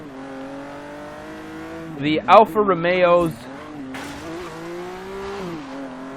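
A Lotus Evora engine in the racing game Forza Horizon 3 holds a steady drone, broken by a brief burst of sharper revving and shifting about a third of the way in, with someone talking over it.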